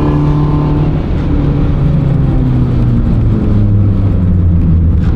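A loud, close Abarth engine drones and revs steadily on a rain-soaked Bilster Berg track during a trackday, its pitch rising and falling as the wheels spin, with no talking.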